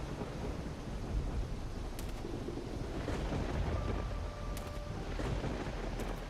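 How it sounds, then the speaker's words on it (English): Steady rain with low rumbling thunder in the video game Risen, a dense continuous wash of noise filling the whole stretch, with a few faint thin tones and clicks rising briefly above it; no one speaks. "I like how there's no collision with the roof, so the rain goes right through it."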